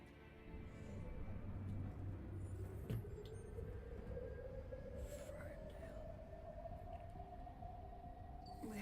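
A train in the Detroit: Become Human video game, a steady rumbling rail drone with a slowly rising tone running through the whole stretch, loud and continuous with no talking over it.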